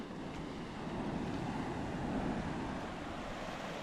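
Sea surf rolling onto a beach at Ayia Napa on a windy day, a steady broad wash of waves with wind rumbling across the microphone, swelling slightly midway, with no voices.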